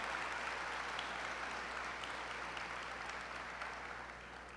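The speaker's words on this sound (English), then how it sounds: "Can we have a round of applause for those elected officials?" A breakfast audience applauds elected officials at a Martin Luther King Jr. Day event, a soft, distant wash of many hands clapping at low volume, slowly fading toward the end over a faint steady hum.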